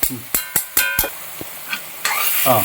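Sliced onions sauté in a pan for Kerala-style chicken stew, with sharp scraping stir strokes and spoon knocks in an uneven rhythm over a light sizzle, close and fairly loud.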